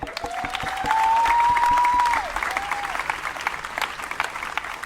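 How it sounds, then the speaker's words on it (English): Audience applause and cheering at a live Beat of the Heartland event, a dense wash of clapping with a brief whoop rising over it, moderately loud, with a voice faintly underneath. "Make some noise for that"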